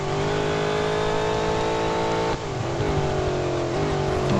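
A race car in the Real Racing 3 mobile game holds a steady, high-pitched engine whine as it powers through a corner, with a brief dip and pitch shift midway as the revs change, heard alone.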